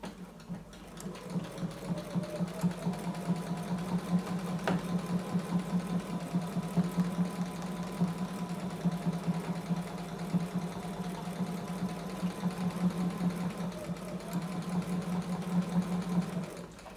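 A sewing machine runs steadily while stitching along a heart border template, a continuous close mechanical whir with rapid needle chatter that keeps an even pace throughout and has no talking over it.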